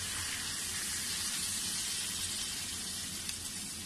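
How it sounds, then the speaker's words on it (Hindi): Water is poured into a mutton karahi pot holding spiced meat and chopped tomatoes, a faint, steady hiss with a light sizzle running throughout. "साथ ही हम 3 गिलास पानी डाल देंगे"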